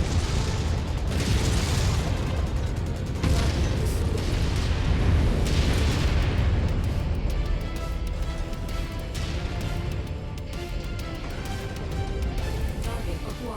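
Missile impacts battering a mech in MechWarrior 5: Mercenaries: continuous heavy booming explosions with deep rumbling, loud and close, gradually easing into a dense rumble with faint mechanical tones.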